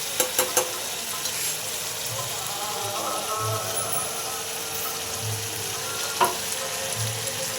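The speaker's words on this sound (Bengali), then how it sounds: "পেস্টটাকে দিয়ে কড়াইয়ের তেলের মধ্যে একটু নাড়াচাড়া করে নিচ্ছি" Steady crackling sizzle of paste frying in oil in a wok, with a few sharp clinks and scrapes from stirring at the start and again near the end.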